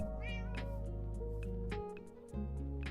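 A cat in a video game meows several times over steady, loud game music, with no talking.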